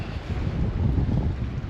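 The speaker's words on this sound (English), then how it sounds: "Oh, it's windy this side." Strong wind buffets the microphone in a continuous low roar, loud and close, with no voices.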